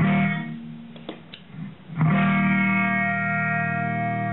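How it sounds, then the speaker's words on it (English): Electric guitar through a hall reverb pedal: chords ring out with a spacious, washy reverb tail; a brief pause of picking noise, then a big strummed chord swelling and sustaining. "This first one's a hall setting, so it just sounds like we're in a hall."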